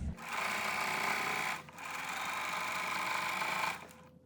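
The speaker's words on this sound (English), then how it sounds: "gonna hit my back stitch button, which is when your machine goes backwards" A sewing machine stitches a flannel rag quilt in two steady motor runs with a short pause between them as it back stitches, loud and close, with no voices.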